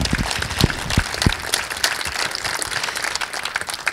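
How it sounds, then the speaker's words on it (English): A crowd at a baseball spring training welcome event applauds, dense clapping with a few sharp, close claps standing out, sustained for several seconds. "let's give ourselves a round of applause"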